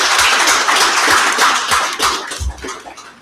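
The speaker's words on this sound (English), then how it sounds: "can we just give our panel a round of applause," An audience at a community conversation on prevention gives a panel a round of applause, a dense, steady patter of many hands clapping with some heavier close claps, fading slightly toward the end.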